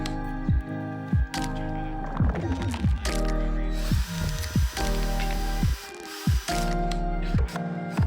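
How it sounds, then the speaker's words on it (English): Power drill pre-drilling and countersinking screw holes in a wooden scaffold-board tabletop, repeated whining bursts that spin up and wind down in short runs of a second or so, loud and close with brief pauses between. "I pre-drilled some holes through this into the bottom of the tabletop. I went through and added countersink holes to each of these so the screws would sit flush."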